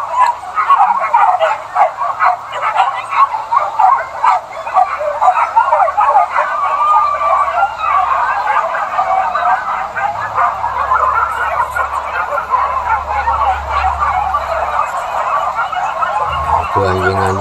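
Several hunting dogs bark and yelp repeatedly in an irregular chorus while searching for wild boar, some nearby and some farther off, continuing for a long stretch outdoors.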